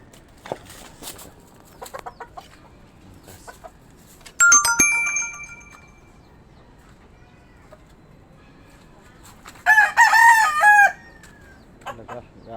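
Three-year-old conditioned fighting cocks crow loudly, with two bursts of crowing several seconds apart, scattered clucks, and flapping or scuffling noises in between.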